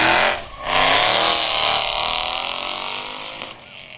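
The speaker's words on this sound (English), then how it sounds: "There they go in the 2008 Ford Mustang." A 2008 Ford Mustang pulls away at the start of an open-road race, a loud engine roar that rises as it accelerates and then holds steady as it drives off.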